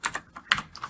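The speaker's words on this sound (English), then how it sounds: "now I'm going to hit enter on my keyboard twice" A computer keyboard is typed on close by, with a quick run of sharp key clicks that ends in a couple of firmer presses, such as hitting enter twice.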